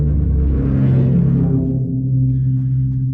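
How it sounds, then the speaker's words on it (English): Whale sound produced on a bass drum, likely by rubbing the drumhead: a loud, low, sustained moaning groan with a rising then falling pitch, alone and close. "Whale sound on a bass drum."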